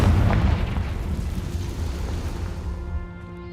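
A Confringo fire spell explodes in Hogwarts Legacy, a loud, deep booming blast that starts strong and rumbles on with a slowly fading roar, with no voices.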